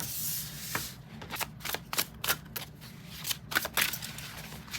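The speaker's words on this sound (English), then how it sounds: "We'll do one more shuffle" Tarot cards are shuffled up close in a series of quick, crisp riffling bursts, each ending with a light snap, separated by short pauses in a quiet room; no voices.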